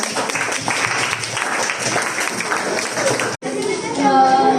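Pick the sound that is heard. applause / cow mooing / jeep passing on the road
applause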